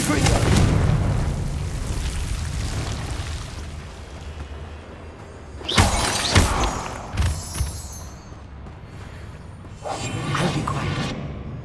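Blasting-spell explosions from the Hogwarts Legacy video game: a few deep booming bursts with whooshing tails, the loudest pair clustered mid-clip, over a steady rumbling game background.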